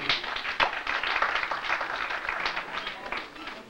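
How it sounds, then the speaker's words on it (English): Audience applause at a talk at John Jay, a dense steady patter of many hands clapping at moderate distance for a few seconds, tapering slightly at the end. "y'all should clap for that"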